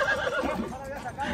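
A restless donkey on its first group trail ride gives loud, close, harmonic whinny-like calls that rise and fall through the clip, with people's voices mixed in.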